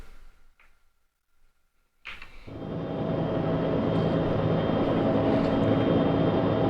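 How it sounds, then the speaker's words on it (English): A Huey helicopter in a flight simulator game, already spun up: after about two seconds of near silence a turbine whine and rotor drone start abruptly, swell, then hold as a steady, loud mechanical roar. "So we already got a Huey spun up right now"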